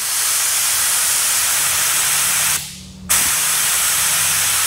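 A loud continuous hiss of compressed air from a SATA paint spray gun set fully open at about 26 to 29 psi, briefly cutting out for half a second before resuming just as strongly.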